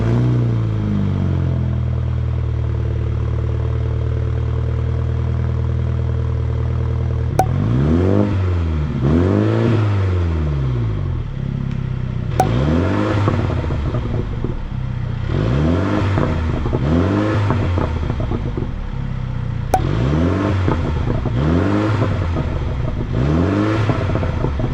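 A Mini Cooper with a cut-off, shortened exhaust pipe idles with a deep rumble, then revs repeatedly in sharp rising-and-falling bursts, several throttle blips in a row, close and loud with no talking.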